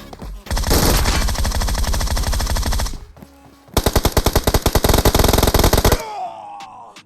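A P90 submachine gun fires in the BGMI (PUBG Mobile) video game, heard as two loud, close, rapid automatic bursts separated by a short pause. A ringing tail follows as the firing stops.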